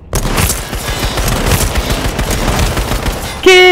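Rapid bursts of automatic gunfire in the battle royale game Z1 Battle Royale rattle continuously for several seconds, loud and close, ending with a short electronic tone.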